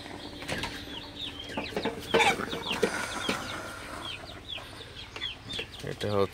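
A heavy broiler chicken, nearly four kilograms at about fifty-one days old, clucks and squawks in short, agitated bursts as it is lifted inside a poultry shed, with other birds calling nearby.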